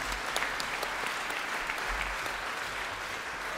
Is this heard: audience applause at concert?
yes